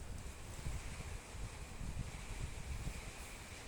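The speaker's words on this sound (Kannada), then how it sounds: "ಹೇಗಿದೆ ನೋಡಿ ಈ ಲೈಟಾಗಿ ಬಂದಿರೋ ನಮ್ಮ ಊರಿನ ಸೈಡಲ್ಲಿ ಮಳೆ ಗಾಳಿ" Steady soft hiss of light rain with low rumbling gusts of wind in a village, continuous and fairly quiet, with no voices.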